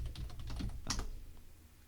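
Typing on a computer keyboard while installing Anaconda and Python on Windows, with a short run of close, crisp key taps and one louder clack midway, fading to quieter presses, with no talk.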